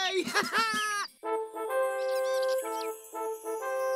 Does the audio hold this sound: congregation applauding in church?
no